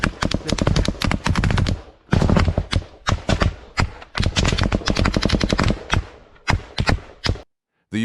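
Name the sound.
Russian gunfire in combat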